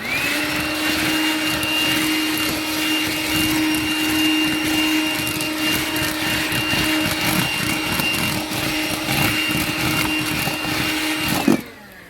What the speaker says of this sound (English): I got a handheld battery Makita vacuum